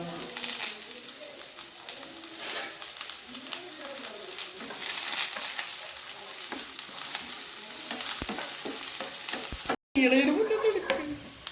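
Onion, carrot and chili powder being stir-fried for a Kerala herb thoran, a continuous close sizzle with repeated scraping strokes of a spoon, pigeons cooing faintly in the background and a brief dropout near the end.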